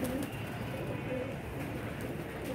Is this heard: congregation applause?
no